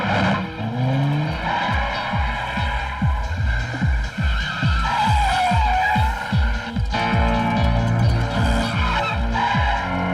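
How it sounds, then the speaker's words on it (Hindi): A car races fast through a chase, its engine revving in a rapid series of rising pulses while tires squeal and skid continuously, loud and close throughout. "गाड़ी फास्ट चला और तेज चला।"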